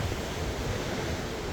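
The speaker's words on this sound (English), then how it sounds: "I love big waves." Ocean waves breaking on a Tel Aviv beach, a steady broadband wash of surf with wind rumbling on the microphone, continuous and fairly close, with no voices.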